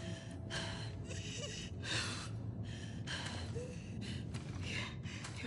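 Heavy, strained breathing of a wounded character in The Last of Us 2, a string of about seven gasping breaths in an uneven rhythm, close-up and alone without speech.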